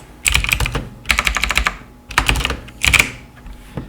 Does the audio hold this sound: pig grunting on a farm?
no